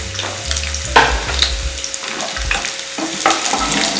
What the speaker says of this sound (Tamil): இப்போ இந்த இஞ்சி பூண்டை நம்ம அதில் போட்டுடலாம்